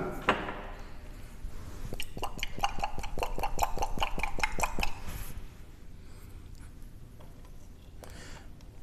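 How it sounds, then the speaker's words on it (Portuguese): Lab glassware holding a precipitate being shaken, giving a rapid series of bright glassy clinks and rattles over a few seconds, then quieter scattered taps. "vamos agitar agora o precipitado"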